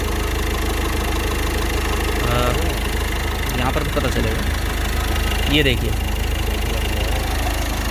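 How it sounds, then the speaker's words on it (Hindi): A Ford EcoSport diesel engine idles with a steady low drone and mechanical clatter throughout, while someone talks over it close by. "ये कार हो चुकी है स्टार्ट।"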